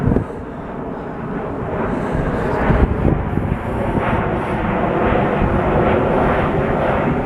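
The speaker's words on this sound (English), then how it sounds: "Oh, there's a plane." An airplane passing overhead, a loud, steady broadband engine roar that fills the whole stretch with slight swells, accompanied by some wind rumble on the microphone.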